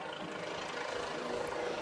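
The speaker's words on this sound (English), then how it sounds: "there goes the state police helicopter" A state police helicopter passes over a high school football game, a faint, steady rotor drone heard from a distance over crowd ambience.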